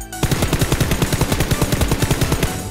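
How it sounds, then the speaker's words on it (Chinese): Automatic gunfire in the battle-royale game Peace Elite, a rapid loud burst of evenly spaced close shots running continuously for a couple of seconds. "他们在开枪"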